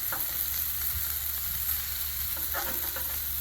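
Shrimp, partly frozen and stuck together, sizzle on a hot Blackstone griddle, a steady close hiss with a few soft scrapes and pops.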